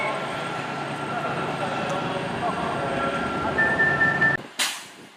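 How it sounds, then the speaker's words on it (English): A Virgin Class 390 Pendolino train, unit 390006, running the 1523 service to Liverpool Lime Street, pulls out of Stafford station on the West Coast Main Line with a steady broad rumble and a high whine, then cuts off with a sharp bang. "pulling out now is the 1523 Virgin train service to Liverpool Lime Street from the 390006"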